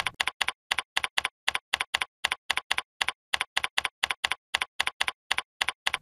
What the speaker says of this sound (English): Type a statement or a question.